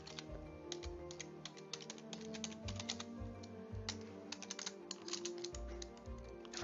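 Typing on a computer keyboard: a run of quick, irregular key clicks, fairly close and soft, carrying on almost alone with only a few quiet words spoken.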